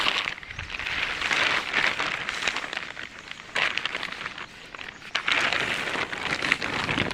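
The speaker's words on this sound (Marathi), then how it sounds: "आज पाऊस आहे खूप पाऊस आहे" Heavy rain pouring down outdoors, a dense steady hiss of drops that swells and eases in waves without pause, close and loud, with no talking.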